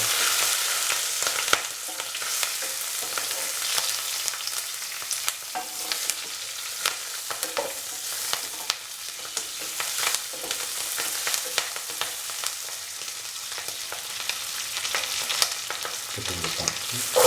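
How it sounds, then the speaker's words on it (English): Red and green chilies fry in a hot pan with oil for a pumpkin and kokum coconut stew, a steady loud sizzle with crackles and stirring scrapes running continuously throughout. "Put in the red chili and the green chili."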